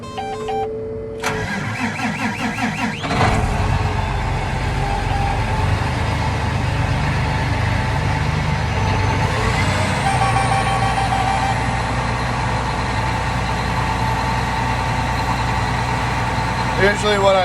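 A tractor engine cranks and catches after a short beep, then settles into a steady, loud, low rumbling idle that runs on without a break.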